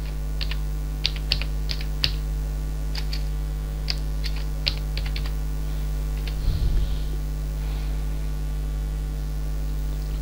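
Sparse keyboard keystrokes while filling in an online application form, single clicks and short bursts spaced irregularly over a steady low hum, with no talk.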